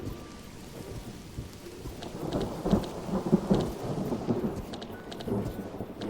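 Steady rain with rolling thunder in the colony-building video game Mind Over Magic, a continuous downpour hiss with low rumbles swelling midway, heard alone without talk.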